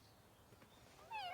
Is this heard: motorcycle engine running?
no